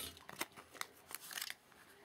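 Small scissors snip through adhesive pop dots for a craft project, a quick series of light, crisp clicks and snips, close and quiet with no talking.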